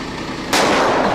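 An explosion effect on a film set goes off as a sudden loud burst cutting in partway through, followed by a sustained broadband roar that holds until the end.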